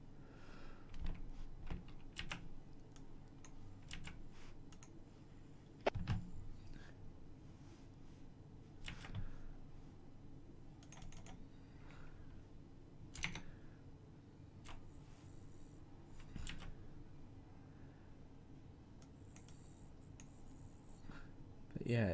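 Typing on a computer keyboard while playing Roblox on Linux, scattered quick key clicks and taps spread across a long stretch, close and fairly quiet, with a person speaking at times underneath.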